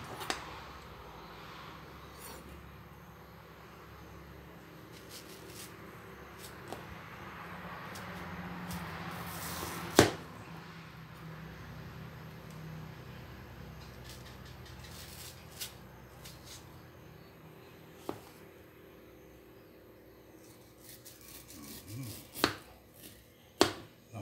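Unripe mango is sliced with a knife in a steady series of soft, close chopping and cutting strokes, with a few sharper knocks and some faint background hiss.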